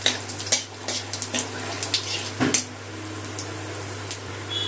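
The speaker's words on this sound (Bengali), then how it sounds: "ফোড়নটা একটু তেলের মধ্যে ভেজে দেবো" Whole garam masala, cumin, bay leaf and dried chilli frying in hot oil, giving a close, steady hiss with scattered crackling pops and a few louder bursts early on, settling to a gentler sizzle.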